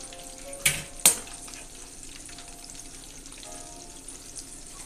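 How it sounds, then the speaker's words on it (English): Food being double fried in hot oil, a steady low sizzle and crackle with two sharp bursts near the start, probably as pieces are dropped or stirred, then a continuous bubbling hiss. "we're double frying these"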